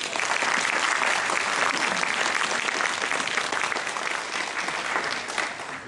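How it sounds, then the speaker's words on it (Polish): Audience at a folk festival breaks into loud, sustained applause, dense clapping from many hands that holds steady and tapers slightly toward the end. "Wielkie brawa!"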